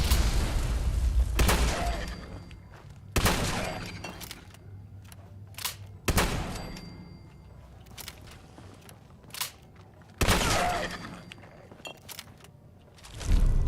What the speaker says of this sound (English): Hunter's hunting rifle